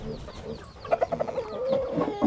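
A Black Australorp chicken clucks close by in a quick run of short clucks, then lower murmuring, over a soft background.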